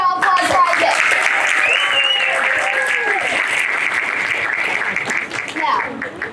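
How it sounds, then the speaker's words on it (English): A theater audience claps loudly and steadily for a volunteer at a magic show, and the dense applause holds throughout. Voices and cheers rise over it as a presenter speaks. "Big round of applause for Isaac."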